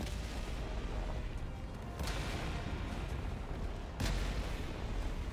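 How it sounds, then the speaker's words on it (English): Artillery bombardment in the video game Helldivers 2, a constant dense rumble of distant fire with two sharper blasts hitting at roughly two and four seconds. "They're bombing me, run!"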